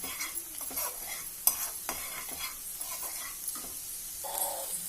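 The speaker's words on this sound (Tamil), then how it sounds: "இப்போ நல்லா கிளறி விட்டுருவோம்" A spoon stirs and scrapes ridge gourd and egg frying in a pan, giving a close, light sizzle broken by irregular scraping strokes and a few sharper metallic knocks.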